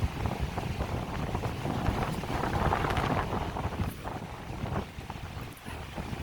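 Strong wind buffets the microphone continuously on a hilltop in the Columbia River Gorge, roaring and gusting without pause, with no other sounds standing out.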